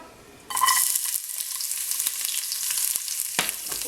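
String beans (cut beans) and leftover onion hit hot olive oil, setting off a sudden loud sizzle that keeps up steadily, with a sharp clatter near the end.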